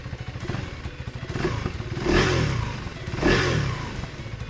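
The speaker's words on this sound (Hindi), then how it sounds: "मैं बाइक को ऑन करता हूँ and I will just make you here the motorcycle." A 2023 KTM Duke 390 with a new engine, new exhaust and larger air intake idles with a thumping beat, then is revved twice in quick, loud bursts before settling back to idle.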